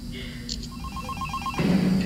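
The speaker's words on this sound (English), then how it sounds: "Oh god, the phone ring." A telephone rings in a horror video game, a short run of evenly spaced electronic trill pulses under low background noise, with a voice cutting in at the end.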